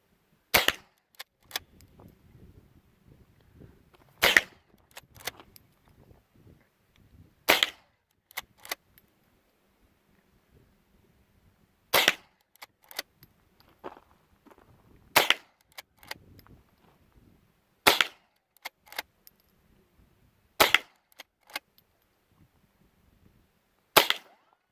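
Sharp reports from a Browning BL-22 lever-action .22 rifle with maple stock, roughly nine single shots spaced a few seconds apart, each crisp and loud against near silence with faint handling noise between.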